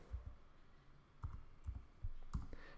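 Several soft, close computer mouse clicks land at irregular intervals over a quiet background, each a brief low thump with a light tick.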